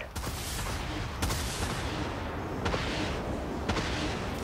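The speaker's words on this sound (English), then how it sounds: "Vulture missiles locked on." Sustained roaring barrage of video-game missile launches and blasts, with sharp bursts standing out every second or so over a dense, loud rumble.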